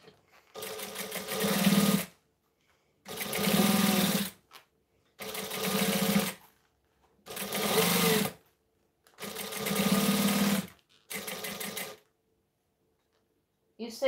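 A domestic sewing machine stitches around the edge of a fabric piece in six separate bursts of rapid, rhythmic whirring, each lasting about a second or two, with short silent pauses between them.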